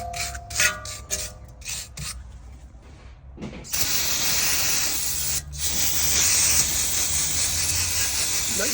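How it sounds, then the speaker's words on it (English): Brake cleaner hisses in steady aerosol bursts over the rear brake of a 2015 Audi S8, starting after a few quiet clanks and holding on as a loud, continuous spray to the end. "once I clean it off with the wire brush, I hit it with some brake cleaner"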